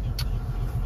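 A car with a cold, not yet warmed engine driving slowly, a continuous low engine drone heard from inside the vehicle with a short higher click over it.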